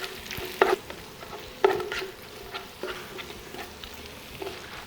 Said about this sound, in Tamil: இந்த ஆயில்லையே வதக்கணும்